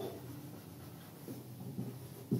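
A pen writing an English sentence by hand on paper, faint scratchy strokes with a few firmer marks, close and quiet, no talking.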